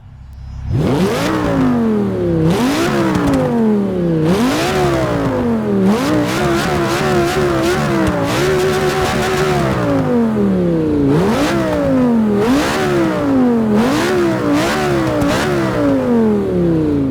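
McLaren 650S twin-turbo engine in Forza Motorsport 6 revving repeatedly through rising and falling sweeps, loud and close, with a series of sharp climbs to high revs and drops back, no talk.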